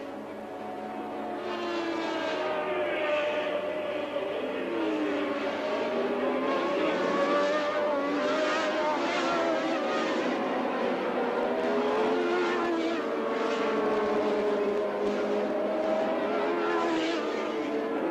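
Formula 1 cars racing at the 1981 Austrian Grand Prix, engines screaming at high revs in a sustained, loud, layered drone with pitch shifts as cars pass and change gear, with no talking.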